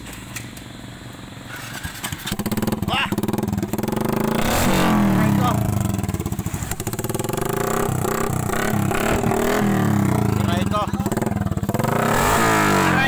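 A Kou motorcycle with a loud, raw open-pipe exhaust revs repeatedly up close, its throaty roar rising and falling while people exclaim and talk over it.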